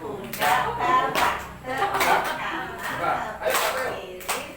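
Schoolchildren at an elementary school clap in a rhythmic hand-clapping game, bursts of claps falling in a repeating pattern while voices chant along throughout.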